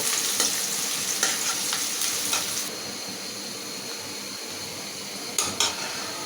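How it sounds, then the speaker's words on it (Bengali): Onions fry in a pan for a spiced meat curry, a steady bright sizzle with scattered clicks of a stirring utensil, louder in the first half and then settling into an even hiss with two sharp scrapes near the end. "পেঁয়াজটা আমি লাল লাল করে ভাজে নেব"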